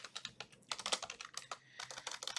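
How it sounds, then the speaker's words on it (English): Rapid, irregular keystrokes on a computer keyboard, close and fairly quiet, clattering in uneven bursts with brief pauses and no voices. "I'm having such a hard time typing"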